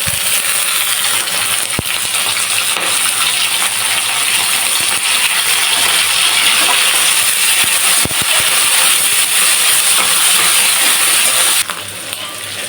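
Small chopped shrimp frying in hot oil with onion, cumin and dried chilli, a steady broadband sizzle running throughout with a few soft clicks and stirring knocks, close and fairly loud, no talk.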